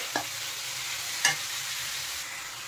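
Noodles with vegetables and soy sauce are mixed in a frying pan: two brief spatula scrapes over a faint, steady hiss of frying, close and quiet.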